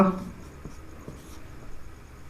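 Chalk or pen writing a math solution by hand, heard as faint, close scratchy strokes in short separate bursts after a brief voice at the start.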